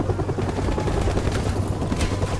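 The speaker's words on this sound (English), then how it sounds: "The chopper is really annoying because you know it's gonna do a lot of damage once he gets you in his sightings" A helicopter in Modern Warfare Remastered gives a loud, continuous rotor roar that dominates the scene, with faint bursts like distant gunfire underneath.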